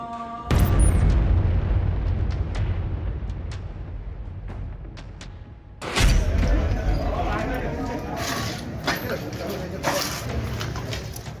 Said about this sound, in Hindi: अफगानिस्तान में एक के बाद एक होते कई धमाके